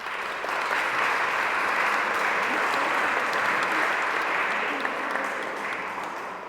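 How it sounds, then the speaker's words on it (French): A church congregation applauds a birthday during Mass, a sustained, full round of clapping from many hands that holds steady for several seconds before easing off slightly at the end. "Un chiffre rond. On peut l'applaudir."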